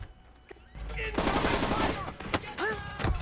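Gunfire in the stealth video game Splinter Cell Conviction: sharp shots and rapid bursts crackle among dense game effects, loud and close, with brief gaps between volleys.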